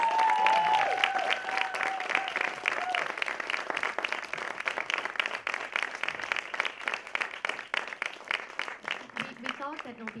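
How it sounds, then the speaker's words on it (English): Sustained audience applause after a stage performance, dense clapping running throughout at steady loudness, with some tonal sounds and voices briefly over it near the start and end. "can we just give another round of applause?"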